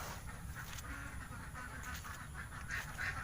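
Ducks quack faintly at a feeding spot under shade netting. The soft calls come from a distance over a constant low rumble of background noise.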